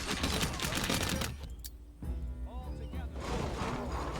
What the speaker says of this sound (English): And now all the archers can shoot.